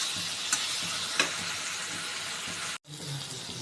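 Masala for muri ghonto, a Bengali rice and fish-head dish, sizzles steadily in hot oil while being stirred, with a couple of sharp scrapes and one brief break before the frying resumes.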